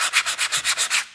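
Sanding block with 220-grit paper rubbed across an aluminum casting in eight steady back-and-forth strokes, a close, dry, rhythmic rasp with no voices.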